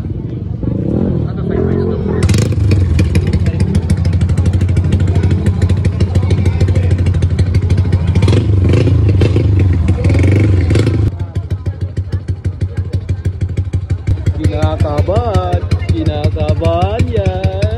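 A motorcycle engine revs loudly and repeatedly at a motorcycle show, with sharp rising and falling throttle blips among crowd babble and people talking nearby.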